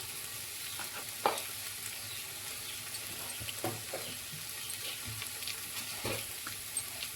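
Baby potato masala curry fries in a pan while spices are stirred in, giving a low steady sizzle with occasional soft scrapes and knocks of a spoon, close and fairly quiet, no voices.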